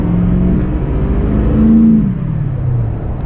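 A diesel truck's 6.0 Powerstroke engine with an upgraded turbo roars loudly nearby, its pitch rising and falling with a whistling turbo spooling up and down over the deep rumble.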